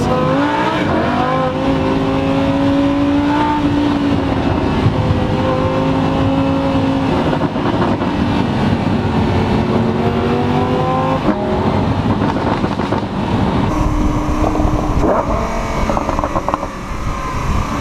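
A Lamborghini Huracán engine revs up and down repeatedly, its pitch falling and rising with gear changes and crackling exhaust pops on the downshifts.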